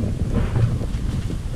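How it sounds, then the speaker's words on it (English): Wind gusts outdoors beside a Dakota fire pit dug into the ground, a steady, loud, low rumbling roar buffeting the microphone throughout with no break. "It's the wind starting to kick."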